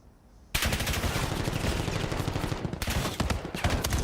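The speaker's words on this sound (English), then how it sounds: "what a rattler gunfire" Rapid gunfire from the video game Call of Duty during a Call of Duty League esports qualifier match, bursting in loud after a quiet moment and rattling on continuously, with no talk.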